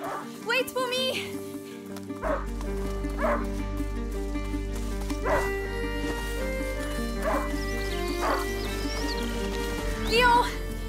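A hunting dog barks in A Plague Tale: Innocence, with sharp repeated yaps and barks scattered through the scene over a steady low game-ambience hum, mixed with other character sounds.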